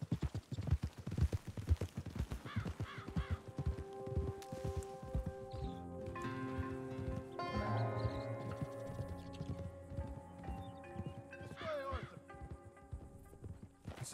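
Horse hooves clip-clopping in the video game Red Dead Redemption 2, a white Arabian horse walking with a steady rhythm of close hoof falls on dirt, giving way to softer steps, rustling and a brief whinny under talk.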